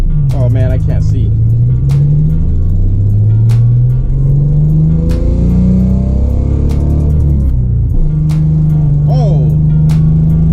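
Engine of a Nissan Z31 300ZX being driven and revved on a drift-prep drive, a loud, steady droning note heard from inside the car that climbs and drops as the throttle changes, with a skittish moment as the rear breaks loose.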